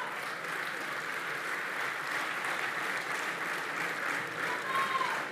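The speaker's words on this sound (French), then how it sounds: "je vous le demande de bien vouloir réserver vos applaudissements" Sustained applause from an audience at a party congress in Aubervilliers, an even wash of many hands clapping throughout with no break.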